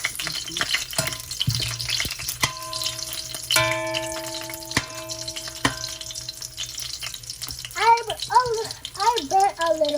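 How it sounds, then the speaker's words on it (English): Spaghetti stirred in a hot pan gives a loud frying sizzle with scraping and clinks, mixed with ringing tones and several people talking and exclaiming over it. "You have to stir it."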